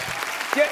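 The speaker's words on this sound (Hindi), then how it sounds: "बाबा जी के लिए जोरदार तालियां हो जाए" Studio audience applause on The Kapil Sharma Show, a Hindi comedy program, in a very short burst of clapping that lasts under a second.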